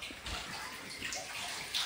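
Dirty water in a big kitchen sink sloshes and rushes steadily during cleaning, a continuous splashy wash of sound at low level with no one talking.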